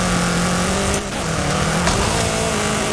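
Car engines roar and tires hum in a Forza Horizon 5 race, a loud, continuous, steady drone with a brief dip in the middle and no speech over it.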